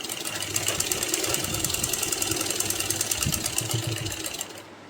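An electric sewing machine stitches a folded fabric layer of a three-layer baby frock, running in a steady rapid mechanical whir that stops abruptly near the end, close and fairly loud with no talk.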